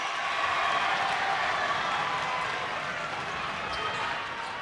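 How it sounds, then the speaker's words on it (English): A packed high school boys' basketball gym hums with a steady, broad crowd roar of chatter and noise, fairly distant and constant throughout, with no single voice standing out. "you hear this crowd already"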